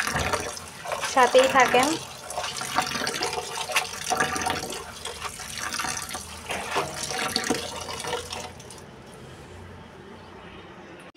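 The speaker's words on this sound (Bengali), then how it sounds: "তো এই তো লাল শাকগুলোকে ধুয়ে নিচ্ছি এখন" Tap water runs steadily while red amaranth leaves are washed in a sink, a broadband splashing wash that fades near the end, with someone speaking briefly over it.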